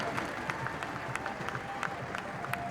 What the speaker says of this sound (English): A massive cheer from the crowd there for René.